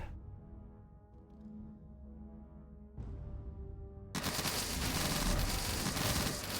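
Video game gunfire in Dungeon 100 rattles as dense rapid volleys that thicken into a loud, continuous roar of shots and explosions toward the end, with no voices.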